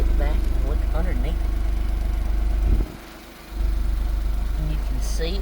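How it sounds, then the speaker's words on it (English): A Suzuki Carry mini truck's exhaust as the small engine idles nearby, a steady low rumble broken by a brief dip in the middle; a voice talks briefly over it. "Look at that exhaust. And listen to how it sounds."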